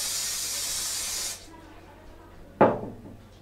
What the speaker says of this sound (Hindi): तो देखा आपने किस तरह से स्प्रे को यूज़ करते हैं अपने स्केचेस पे